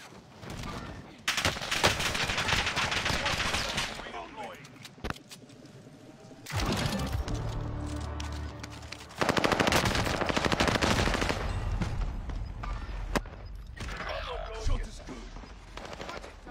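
Rapid automatic gunfire in a multiplayer shooter video game, long loud bursts of machine-gun fire with brief pauses between volleys, mixed with occasional single shots and thuds while players call out over the action.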